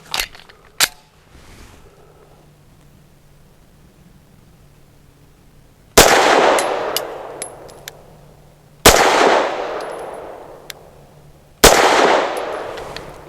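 A Grand Power Mk23 X Calibur CO2 air pistol fires 100-grain lead-free rounds: three sharp, loud cracks spaced a few seconds apart, each with a short ringing tail, after faint handling clicks.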